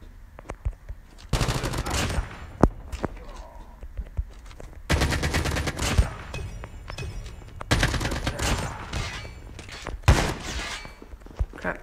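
Gunfire from a shotgun rings out in the mobile shooter game Call of Duty Mobile, in loud bursts of shots separated by quieter gaps with light movement sounds between them.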